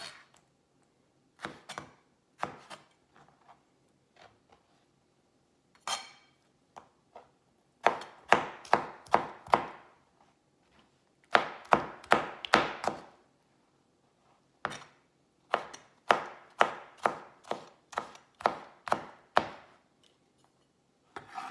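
Roma tomatoes are chopped on a cutting board in quick bursts of crisp knife taps, several rapid runs of strokes broken by short pauses, close and clear with no talking.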